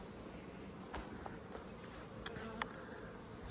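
Dense, steady buzzing of honeybees swarming around an open hive with capped honey and brood comb, heard close and continuous, with a few faint knocks and ticks scattered through.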